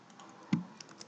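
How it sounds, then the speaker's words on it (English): A few soft keystrokes on a computer keyboard, with one sharper tap in the middle, quiet and close with no voices. "I here type the conditions"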